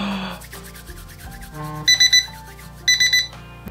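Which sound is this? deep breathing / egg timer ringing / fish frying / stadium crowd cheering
egg timer ringing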